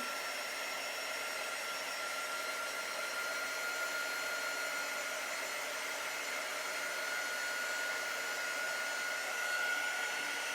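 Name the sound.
dryer drying a chalk-decorated cutting board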